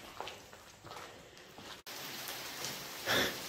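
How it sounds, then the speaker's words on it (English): Steady rain hisses across the whole recording, a dense wash of falling drops with a brief cut partway through and a slightly louder burst near the end. "Raining like crazy"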